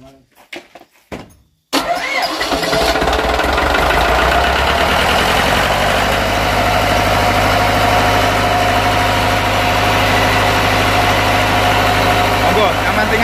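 A Yanmar open-frame diesel generator set cranks and catches after a brief quiet moment with handling noise, then runs loud and close at a steady, even drone for the rest of the clip, while a voice speaks briefly over the engine.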